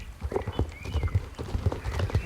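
Horse hooves clip-clop at a steady walking rhythm while riding in Star Stable Online, close and clear, repeated in regular beats over faint game ambience.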